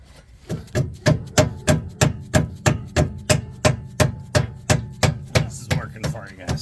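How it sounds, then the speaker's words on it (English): Dead blow hammer driving an outer tie rod into place on a Ford during front suspension work, about fifteen evenly spaced, solid thuds close by, with no talking. "I'm gonna use the dead blow first. See if I can hammer it in and not cause a problem."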